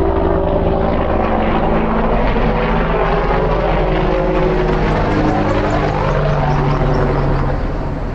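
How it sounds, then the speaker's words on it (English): A helicopter passes overhead during a walk through historic downtown Centralia, Washington, its steady rotor and engine drone loud and continuous throughout, with a low rhythmic thump and no talk. "Oh, there's a helicopter."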